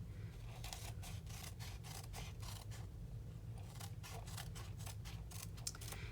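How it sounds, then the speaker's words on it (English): Scissors snip off excess paper from a card in a quick series of crisp, rhythmic cuts, close and fairly quiet, with no voices. "take our scissors and just cut off the extra that's hanging off"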